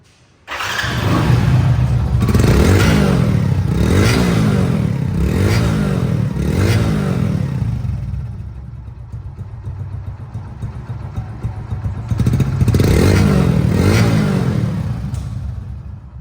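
A Hero Splendor Plus motorcycle from 2023/24 in showroom condition runs close and loud, its engine revving in repeated swells, easing to a steadier idle, then rising again near the end.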